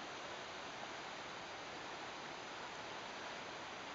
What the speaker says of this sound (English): So I've got the river coming down